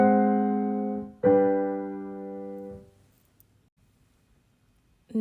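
A sustained Italian augmented sixth chord on piano rings, then moves to a dominant V chord that decays into near silence, ending with a faint click.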